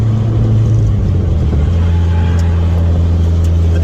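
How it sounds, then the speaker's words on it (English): A Dodge Neon SRT4 with big tires drives along with a steady engine drone and low rumble that shifts slightly in pitch, heard from inside the car on a rainy road. "This car is just so fun to drive."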